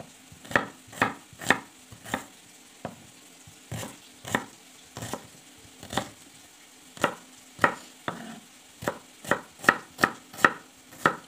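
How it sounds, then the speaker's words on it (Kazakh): A knife chops onions on a board, roughly two dozen crisp, evenly spaced strikes repeating steadily and close, with no talk, while preparing zucchini caviar. "Қалған 2 жуан турайым."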